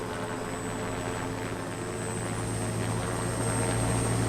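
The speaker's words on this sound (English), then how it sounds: "The helicopter's coming." Helicopter approaching in the video game Parasite Eve, a steady droning rotor and engine hum with a high whine that gradually grows louder, continuous and alone.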